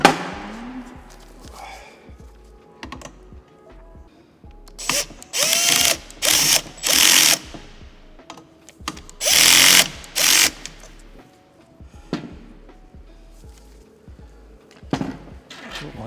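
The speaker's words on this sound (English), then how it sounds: "I don't want to crank the drill right up." A power drill drives screws into an Anet A8 Plus 3D printer frame in short bursts of whirring and ratcheting, with quiet handling clicks between them.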